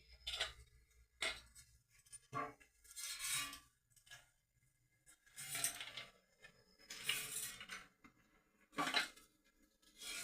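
Semolina cake batter stirred with oil in a bowl, a spoon clinking and scraping against the bowl in irregular bursts, fairly close but quiet, with pauses between strokes.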